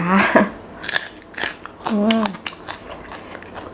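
Someone eats chewy Vietnamese-style rice noodle soup, with soft bites, slurps and wet chewing heard up close, broken briefly by a short voiced sound.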